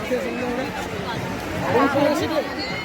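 Busy crowd babble at Digha beach, many voices blending into a constant murmur, with a nearer voice standing out partway through.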